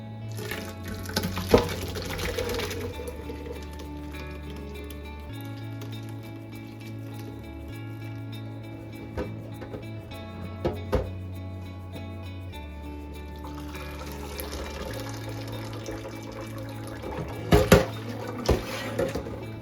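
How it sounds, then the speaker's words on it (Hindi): Curdled milk for rasmalai chhena is poured through a cloth stretched over a vessel, liquid trickling and splashing steadily over a low background hum, with a few louder knocks near the end. "अभी मैंने ये एक बर्तन लिया है, उसके ऊपर मैंने ये कपड़ा लगा दिया, इससे हम लोग छान लेंगे इसको"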